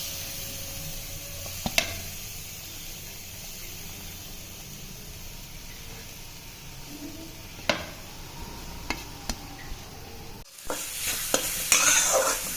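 Freshly grated coconut is stirred in a hot wok, giving a soft continuous scraping hiss with faint sizzling. Sharp spatula clicks strike the pan now and then, and the stirring grows louder and busier near the end.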